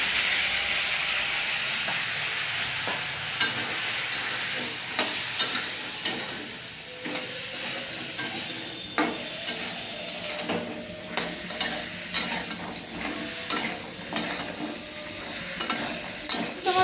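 Crab fries in a pan with salt and turmeric, giving a steady close sizzle and hiss. Sharp scrapes and clinks from stirring cut in at irregular intervals throughout.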